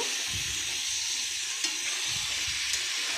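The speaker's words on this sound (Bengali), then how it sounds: "পুরো মশলাটার সঙ্গে ভালো করে এটা আমি নেড়ে নেব।" Chicken skin with spices sizzles in a hot pan as it is stirred, a continuous close frying hiss with soft scraping strokes and no talking.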